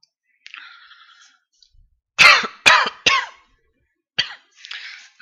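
A man coughs several times in quick harsh bursts, close and loud, with quieter throat noises and soft breaths between while he works on replacing the filters of a Honeywell HPA100C air purifier.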